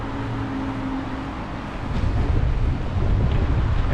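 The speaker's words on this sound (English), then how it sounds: "there's going to be cars going by." Cars pass on a highway beside a bicycle rider, heard as a steady road rumble with wind noise on the microphone that swells louder as a vehicle approaches midway through, with no talking.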